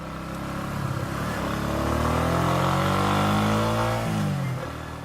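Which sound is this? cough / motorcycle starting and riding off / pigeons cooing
motorcycle starting and riding off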